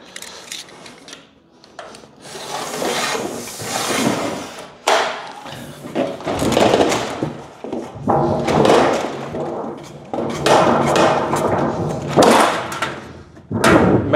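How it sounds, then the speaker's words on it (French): Aluminium sheet is worked in a sheet metal brake to finish a double fold, producing a series of irregular metallic clanks, thumps and scraping bursts at close range, loud and uneven, with no speech. "Maintenant que le morceau sort de la plieuse, c'est maintenant que je finis mon double pli."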